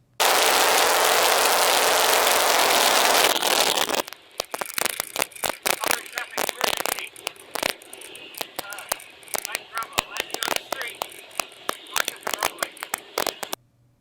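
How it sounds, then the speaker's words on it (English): Aircraft engine in flight, first a loud steady roar, then it cuts out and leaves irregular sputtering, popping and crackling bursts, with a voice talking over parts of it. "So that was the first engine failure."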